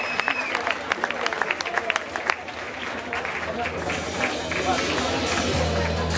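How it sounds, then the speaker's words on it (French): A concert crowd at a Paris venue bursts into applause after a live hip-hop performance, with sharp individual claps at first merging into a thick, sustained roar of clapping and crowd babble, and a low hum entering near the end. "Et je veux un tonnerre d'applaudissements,"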